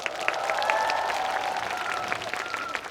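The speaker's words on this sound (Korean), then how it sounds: "박수 한번 부탁드리겠습니다" A crowd at a Kia outdoor concert in Gwangju claps together on cue, steady dense applause with scattered sharper claps and cheers, while a faint tonal voice or sustained note hovers underneath.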